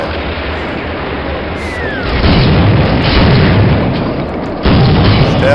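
Booming gunfire and explosions in the video game Soldier of Fortune, loud, dense blasts that swell and cut off abruptly, with a brief bit of talk near the end.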